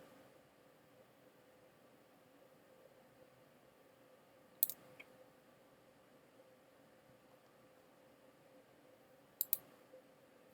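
Two faint pairs of quick computer mouse clicks while working in Tinkercad, isolated against a quiet room hiss.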